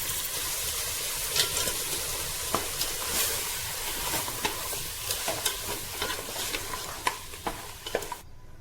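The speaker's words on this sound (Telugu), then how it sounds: "వేసుకున్నాక బాగా మిక్స్ చేసుకోవాలండి" Mutton being stirred in a hot pan for biryani, with steady sizzling and frying under repeated scraping and clacking strokes of the spoon against the pan, close and continuous throughout.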